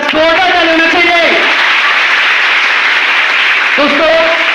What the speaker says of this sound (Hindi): बस जोरदार ताली होना चाहिए